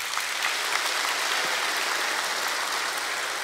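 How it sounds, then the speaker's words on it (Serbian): A studio audience at a televised singing competition claps for a contestant, producing a dense, even wash of applause that holds steady throughout. "da čujem aplauz za kandidata broj 1"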